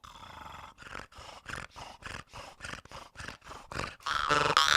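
A voice imitates snoring, making a rhythmic series of rough rattling breaths in and out, about a dozen pulses, close and fairly loud, during a jaw harp session.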